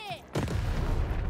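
A single cannon shot in the game Lost In Random, one sharp near blast with a short rumbling tail, following a brief moment of voice.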